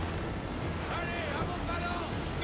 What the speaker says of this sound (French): Le vent devient mordant, capitaine. Ah, une tempête.